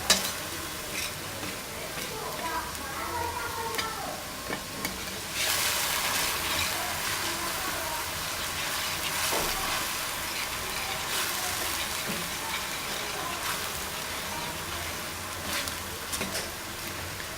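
Steady sizzling and frying of ground onions in a pan for chicken white qorma, kept pale rather than browned, with occasional stirring scrapes, fairly constant throughout and no talking.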